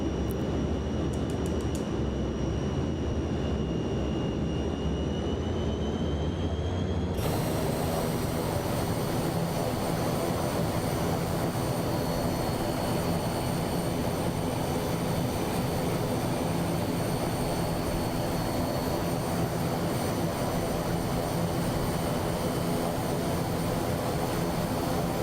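NAMC YS-11 turboprop airliner taxiing in Microsoft Flight Simulator 2024, a steady engine drone with a high whine that steps up sharply as power increases, then holds loud and constant.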